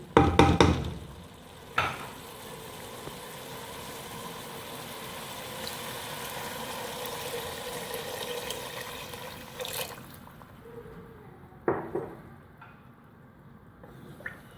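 Water is added to a pot of moong dal for khichdi, giving a faint, steady liquid wash with a few sharp clinks and knocks of a vessel at the start and near the end, and no talk.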